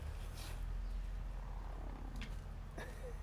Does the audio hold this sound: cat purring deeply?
yes